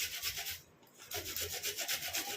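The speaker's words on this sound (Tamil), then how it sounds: "இப்போ நம்ம இந்த தக்காளி பழத்தை நம்ம இந்த மாதிரி துருவி எடுத்துக்கலாம்" A tomato is grated by hand, producing rapid, rhythmic rasping strokes close by, with a brief pause before the scraping resumes.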